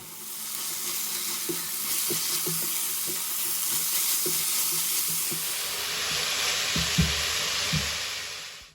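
Chopped onion and grated carrot sauté in oil in a large pot, giving a continuous close hiss of frying with light clinks and stirring knocks scattered throughout, and no one speaking.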